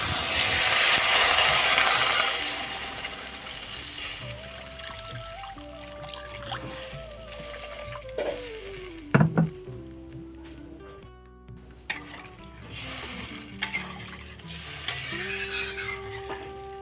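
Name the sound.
water added to sizzling spices in a cooking pan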